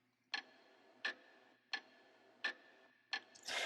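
Clock ticking from the ClockWorld video game soundtrack: five crisp, evenly spaced ticks about 0.7 seconds apart, clear and up close, ending in a brief burst of noise.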